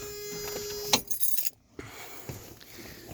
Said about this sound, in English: I'm gonna pull this key out